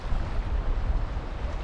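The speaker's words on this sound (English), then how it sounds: "It's windy as all hell." Strong wind over open water during bass fishing from a boat, a heavy low rumble with buffeting gusts against the microphone and a faint wash of waves, no voices.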